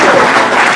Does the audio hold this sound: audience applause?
yes